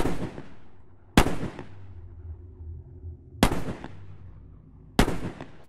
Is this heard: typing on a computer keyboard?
no